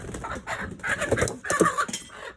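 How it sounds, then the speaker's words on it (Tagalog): Close chicken clucking in a quick series of throaty calls, rising and falling over a couple of seconds with no talking. "Kaninong manok kaya ito?"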